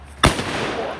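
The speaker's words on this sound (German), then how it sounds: "der Bruder hat uns jetzt einmal kurz einen Böller gezeigt" A firecracker is thrown and explodes in a single loud, sharp bang close by, followed by a fading reverberant tail.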